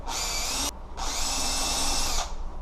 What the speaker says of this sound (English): Then you can drill all the way through the jig,